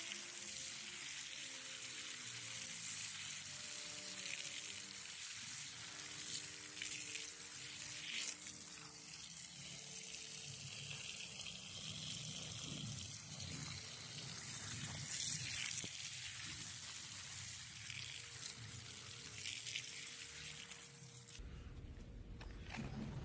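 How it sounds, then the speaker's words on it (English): A garden hose blasts water onto garden plants to knock pests off them, giving a steady close-up hissing spray that stays loud throughout with a slight shift near the end. "I'm simply gonna blast them off with some water"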